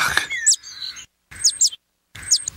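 Short bright bird chirps in a children's cartoon about animals come in three separate bursts of quick tweets with quiet gaps between them, close and clear, with no one talking over them.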